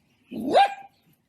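A single sharp bark from a dog with paralysed, dragging hind legs, close and loud, lasting under a second with no talk.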